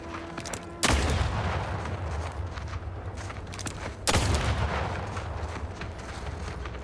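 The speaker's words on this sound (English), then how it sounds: "is this the burst gun?" Two loud bursts from a burst-fire gun in a video game, set a few seconds apart, each followed by a rumbling decay over a steady background of in-game ambience.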